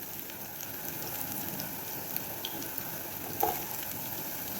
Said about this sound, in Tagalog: sisimulan na natin yung paggisa ng mga ingredients guys